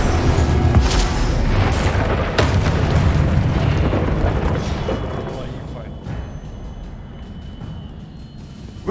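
Incendio fire spell blasts in Hogwarts Legacy, a video game, boom loudly with repeated bursts and a rolling eruption-like roar. The roar slowly fades toward the end.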